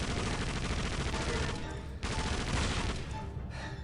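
Turret machine gun in Indiana Jones and the Emperor's Tomb hammers out a loud, dense stream of rapid automatic fire, broken by two short pauses, with no talking over it.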